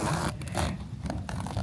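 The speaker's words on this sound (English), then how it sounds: "So nice, big, sturdy zippers." A big, sturdy zipper on a travel suitcase pulled open in quick, rasping scrapes, close and fairly loud, with no talking.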